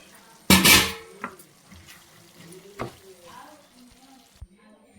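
Five chopped tomatoes are dropped into a ridge gourd curry in a pan, with one loud close clatter and splash, then a few lighter utensil knocks and faint stirring.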